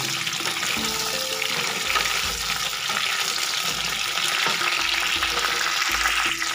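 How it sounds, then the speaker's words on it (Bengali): Cubed potatoes and pointed gourd frying in hot oil, a loud continuous sizzle broken by repeated scraping stirs of a spatula in the pan. "আলু এবং পটলটাকে কিন্তু একবার ভালো করে তেলের সাথে"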